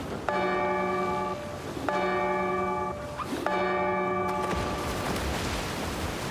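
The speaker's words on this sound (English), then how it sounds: "Ring bell 3 times." A bell in the video game Escape Simulator 2 is struck three times, each a clear, resonant ring about a second and a half apart that hangs briefly before the next, the last tail decaying into a low rumble.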